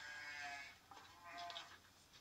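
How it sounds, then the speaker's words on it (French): Sheep bleat faintly on a mountain farm in the Aldudes valley at feeding time, a couple of thin, distant wavering calls over quiet background noise. "Les brebis de Michel ont faim"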